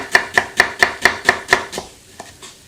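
A knife chops onion and garlic on a cutting board in a quick, even run of about eight crisp strikes, close and loud, followed by a couple of lighter taps as the rhythm trails off.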